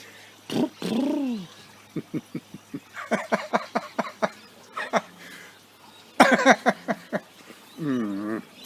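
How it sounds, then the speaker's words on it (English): A couple of turtle doves coo in a few soft, repeated rounds, close by and fairly clear, while the vocal bursts in between sound rough and breathy. "couple of turtle doves, I think"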